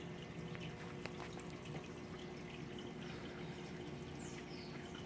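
A steady, faint trickle of water runs into an aquarium tank, joined by the soft bubbling of an air stone, continuous and low without any talk.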